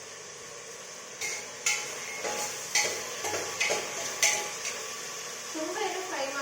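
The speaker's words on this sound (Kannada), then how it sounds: "ಎಣ್ಣೆ ಬಿಸಿ ಆದಮೇಲೆ ತರಕಾರಿ ಹಾಕಿ ಫ್ರೈ ಮಾಡ್ಕೋಬೇಕು" Vegetables dropped into hot oil and stirred in a home kitchen pan for veg pulav, with a steady low sizzle and several sharp scraping clinks of a utensil against the pan, close and unaccompanied by talk.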